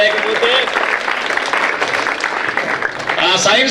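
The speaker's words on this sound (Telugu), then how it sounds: "క్లాప్స్ కొట్టాడు గట్టిగా" Loud, dense clapping from a crowd at a school science exhibition, steady and close throughout, with a voice speaking over it.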